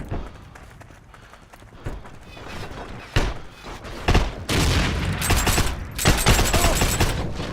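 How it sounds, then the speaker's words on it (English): Gunfire and a grenade blast in the online shooter Heroes & Generals, with rapid shots building into a loud, dense burst of fire and impact noise close by, and a voice faintly in the background. "Oh no, he threw a grenade."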